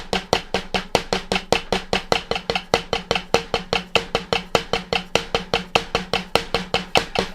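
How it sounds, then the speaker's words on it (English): Fast, even stick strikes on a drum pad in a steady triplet pulse, close and crisp, with a faint tone humming underneath. "how fast can you do one-handed triplets with your weakest hand"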